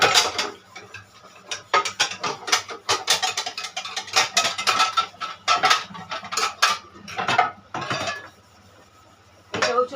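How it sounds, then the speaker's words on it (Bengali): Scrubbing a blackened metal dal pot by hand, with rapid bursts of harsh scraping and metallic rasping that come and go in close, loud strokes, broken by brief pauses. "এখন ডালের পাতিটা মেজে নিচ্ছি"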